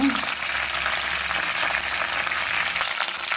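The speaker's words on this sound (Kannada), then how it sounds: "ಸಾಸಿವೆ ಸಿಗುತ್ತಾ ಉಂಟು ಬೆಳ್ಳುಳ್ಳಿಯನ್ನು ಹಾಕೊಂಡೆ ಈಗ ಕರಿಬೇವಿನ ಎಲೆಯನ್ನು ಹಾಕ್ಕೊಳ್ತೇನೆ" Curry leaves and garlic fry with mustard seeds in hot oil, giving a dense, steady crackling sizzle that fills the whole short stretch at close range with no talking.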